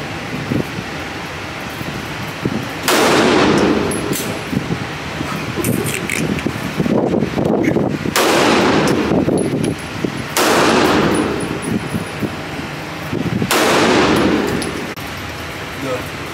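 Gunshots from a rifle at a gun range, four loud, sharp blasts spaced a few seconds apart, each ringing out briefly over steady background noise and low chatter.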